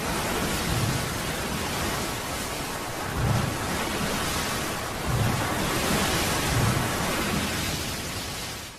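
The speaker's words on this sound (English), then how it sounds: "And that's a rogue wave." Rogue wave on the open ocean, a heavy roaring wash of surf with recurring low surges, loud and continuous with no voices.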